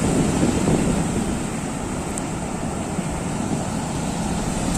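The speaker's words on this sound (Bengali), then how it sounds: "দেখতে পাচ্ছ নিশ্চয়ই পুরো কিরম পাকিয়ে পাকিয়ে আসছে দেখো ঢেউগুলো" Rough sea waves break on Shankarpur beach during rain and wind, a continuous heavy roar with wind buffeting the microphone throughout and no voices.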